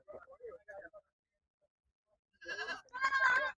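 A male goat at a goat market bleats twice, close and loud, with wavering cries following a short stretch of voices and a brief quiet gap.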